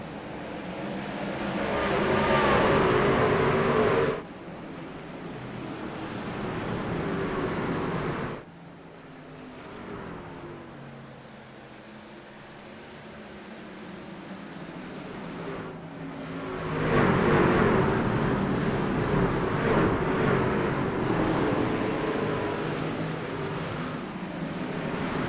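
A pack of race trucks in an iRacing Truck Series race at Martinsville roars with a loud, broad engine rush, fading to a quieter stretch before surging back as the field passes again.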